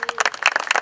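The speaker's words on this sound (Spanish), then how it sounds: "para quienes pido un fuerte aplauso" Applause from an audience at a football tournament anniversary ceremony, with dense, steady clapping from many hands over a short stretch at moderate loudness.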